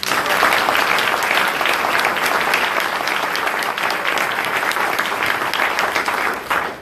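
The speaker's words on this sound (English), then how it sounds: "Can we give these two leaders a round of applause?" An audience gives a loud, dense round of applause at an American Job Center ribbon cutting ceremony at Joint Base Lewis McChord, sustained clapping that tapers off at the end.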